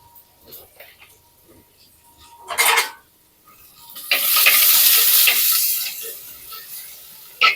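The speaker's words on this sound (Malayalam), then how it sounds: "ഈ സവാള വെട്ടിയത് ഞാൻ വയറ്റാൻ വേണ്ടി ഇടുകയാണ്" Chopped onions dropped into hot oil in a pan, a loud hissing sizzle that swells and holds for several seconds after a brief clatter, with a person talking faintly beforehand.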